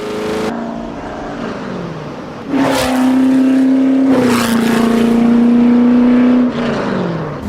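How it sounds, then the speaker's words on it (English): A loud race car engine revs hard, its droning tone climbing and holding high, then easing off before surging again, with no voices. "It's rowdy, it's loud. Driving this car is a workout."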